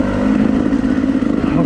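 A dirt bike engine with a broken throttle revs steadily and loudly on a slippery singletrack trail, its mid-pitched drone holding for under two seconds with a faint voice underneath.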